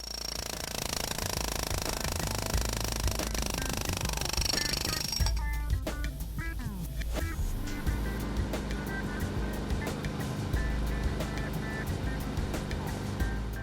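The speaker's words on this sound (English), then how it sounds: "Start cutting or breaking at such a distance from the edge that the machine is capable of breaking the material without levering." A pneumatic air breaker, or jackhammer, breaks material with loud, rapid, evenly spaced hammering blows close by, over a steady compressor and engine roar.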